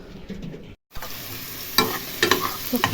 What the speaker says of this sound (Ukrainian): цибулька вже смажиться